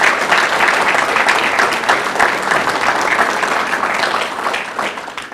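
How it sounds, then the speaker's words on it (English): Audience at the Trenton 2022 State of the City Address giving a loud, dense round of applause that fills the room evenly and tapers slightly toward the end. "give them a giant round of applause for helping make this all"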